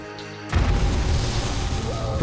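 An explosion in the video game 7 Days to Die, a sudden loud boom after a brief quiet moment, followed by a sustained rumbling roar that fills the rest of the moment.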